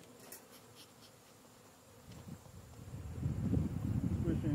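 Honey bees buzzing around Langstroth hive frames during a hive conversion to Layens frames, a low insect drone that swells louder toward the end.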